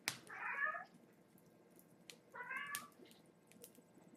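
A cat meows twice, two clear, moderately loud calls about two seconds apart in a quiet indoor room.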